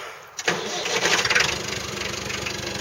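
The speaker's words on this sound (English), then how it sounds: "fire her up" A quad bike engine starts at a duck pond with a sharp catch, then settles into a steady, throbbing idle that runs close and fairly loud to the end.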